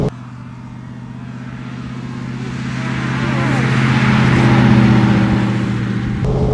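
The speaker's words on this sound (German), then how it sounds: "Wie so ein Wagen fährt, auch dieser tolle Sound, den der macht, der Wagen." A 1934 Mercedes 380 Cabriolet with a supercharged eight-cylinder engine on the move: a loud, steady low engine drone that swells gradually as the car picks up speed, then eases slightly at the end.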